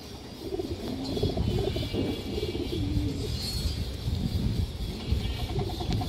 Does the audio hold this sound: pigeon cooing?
yes